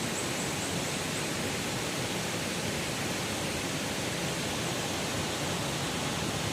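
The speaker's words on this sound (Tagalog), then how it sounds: "This is the Tinoyan Waterfall." Tinoyan Waterfall in Mindanao roars as a dense, steady broadband wash of rushing water, loud and unbroken throughout with no voices.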